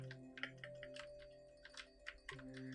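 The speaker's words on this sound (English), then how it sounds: "I wonder if you guys can actually hear my" Computer keyboard typing in quiet bursts of soft clicks, recorded faintly over a low steady background hum with no talking.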